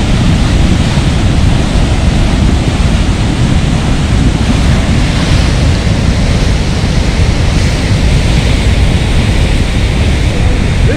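Floodwater of the swollen River Nyamwamba in Kasese rushes past close by, a loud, steady broadband roar that never lets up, with no talk over it.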